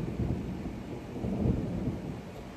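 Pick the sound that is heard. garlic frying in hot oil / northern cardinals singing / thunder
thunder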